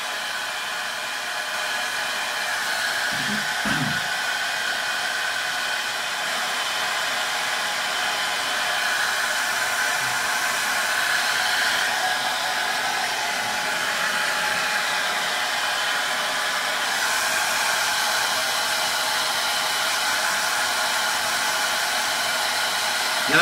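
A hair dryer on cold air drying a hairpiece, blowing as one loud, even, continuous rush for over twenty seconds with only slight changes in tone and no talking.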